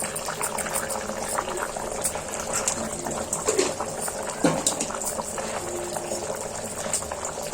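Fish curry (chepala pulusu) with garam masala simmering in a pot, a steady close bubbling and popping with a continuous wet hiss and a couple of louder plops, no voices.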